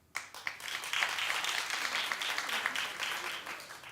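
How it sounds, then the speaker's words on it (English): Studio audience at a daytime talk show breaks into applause, a sudden burst of dense clapping that rises quickly and holds steady, loud and crowded, before slowly thinning. "Clap if you do."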